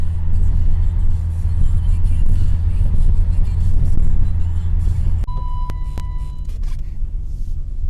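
BMW E32 sedan rolling along with a steady low engine and road rumble that eases as it brakes to a stop, a thin brake squeal ringing out near the end.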